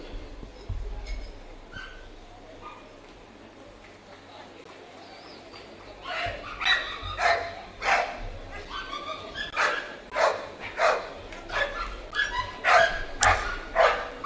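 A police dog barks repeatedly during a dog handling demonstration, with several loud, sharp barks in quick succession in the second half. Crowd noise sits underneath, and a voice is heard talking earlier in the clip.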